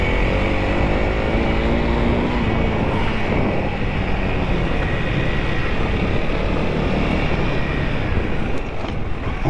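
A Honda CRF300L dual-sport motorcycle on rocky off-road ground revs up under throttle, giving a steady, loud engine drone with a slight rise in pitch and wind noise across the microphone.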